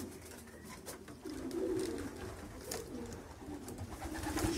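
Flying pigeons coo inside a loft, soft repeated throaty calls rising and falling at close range over a low, steady background murmur, with no speech.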